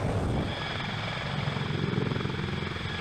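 A US Marines CH-53 heavy-lift helicopter flies with a loud, steady rotor and engine roar that fills the whole stretch, with a dense, rumbling drone and no talking.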